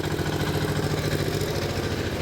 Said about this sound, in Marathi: इंजिन चालू करून दिलेलं आहे.